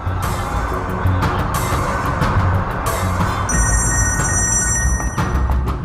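A telephone rings unanswered, its repeated electronic trills cutting through a busy, loud background for several seconds, with no one talking.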